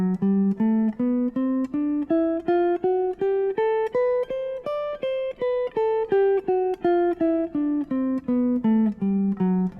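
A dominant bebop scale starting on D played in a single fingering position, with even, detached notes that climb steadily and then descend, loud and close with no talking over it.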